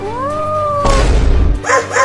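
A cartoon cat in a Holi-themed animated comedy gives a short, rising, drawn-out meow. It sits close and fairly loud, and a brief noisy burst follows.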